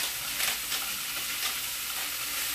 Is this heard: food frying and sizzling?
yes